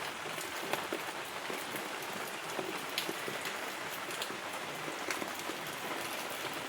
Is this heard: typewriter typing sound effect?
no